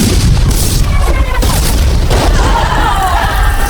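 Cannons in a movie battle scene at a fort fire in loud, overlapping booms that keep up throughout, layered over a rumbling battlefield din.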